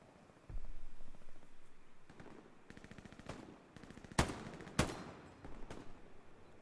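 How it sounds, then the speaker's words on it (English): M1 Garand rifle fire in an Omaha Beach World War II shooter match: scattered gunshots and bursts crackle through the battle, then two sharp, loud close shots ring out about half a second apart. "You can hear the beautiful ping of that M1 Garand."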